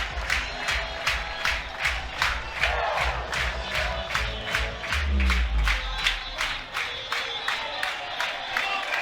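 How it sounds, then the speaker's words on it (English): Home crowd at a Tennessee college baseball game against Florida, rhythmic clapping and chanting building steadily with cheering underneath, a loud, dense stadium roar throughout. "Home crowd getting fired up"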